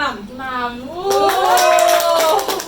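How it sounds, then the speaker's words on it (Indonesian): An audience claps during a student association talk session, with scattered clapping starting partway through and sitting under a clear voice that keeps talking over it. "Tepuk tangan dulu dong"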